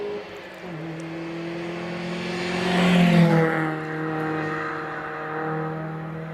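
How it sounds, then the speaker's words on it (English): A Mazda MX-5 race car climbs a hillclimb course, its engine holding a steady, rising drone that swells louder as it nears around the middle and then eases slightly as it carries on up the hill. "Now the first of the Mazdas is Andrew Moyle. His MX-5."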